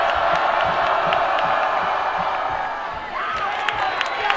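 A high school football crowd cheers and shouts in the stands during a game, a loud sustained roar with whoops and scattered claps, and a commentator talking over it.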